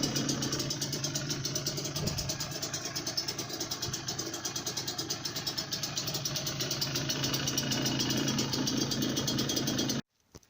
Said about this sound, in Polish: Silnik brzęczał, a jest teraz cichutki.